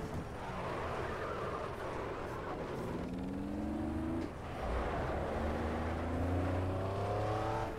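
A race car in Project Cars accelerates in fourth gear along a straight. The engine note climbs steadily and loudly through two rising sweeps, with a brief dip between them, and no one talks.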